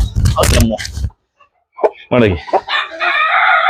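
Russian Orloff rooster crowing in a sustained call that follows a burst of talk, with a short pause between them, loud and close.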